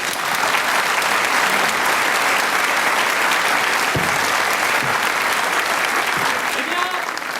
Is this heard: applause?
yes